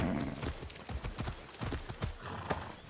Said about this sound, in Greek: Θα μπούμε με το άλογο εδώ στο camp.